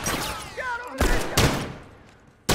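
Rifle fire in The Last of Us Factions multiplayer, heard as a few sharp, close gunshots spaced apart, the last one abrupt at the end, with faint in-game sounds between shots.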